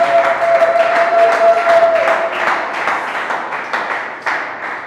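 A church congregation applauds for the Lord, a dense, lively wash of clapping that stays loud for several seconds, then thins slightly, with a few sharp individual claps near the end.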